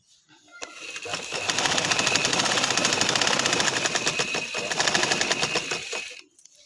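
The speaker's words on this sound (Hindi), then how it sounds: "अब मैं इसको ऐसे रख के इस तरह सिलाई लगाती जाऊंगी।" A sewing machine stitches black trouser fabric in a steady, fast mechanical rattle that runs close and loud for about five seconds before stopping, with no talk.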